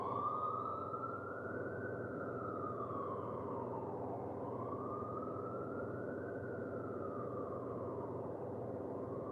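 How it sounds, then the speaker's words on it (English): A wailing emergency siren passes at a distance, its pitch sweeping slowly up and down in long cycles over a steady low traffic rumble. "I'm gonna wait for the siren to pass."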